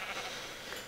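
A sheep in a survival video game bleats briefly and faintly, a single short call against a steady hiss of background noise.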